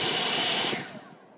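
An Atlas 80V cordless leaf blower from Harbor Freight roars with a loud broadband whoosh at close range, then spins down and fades out over the final half second.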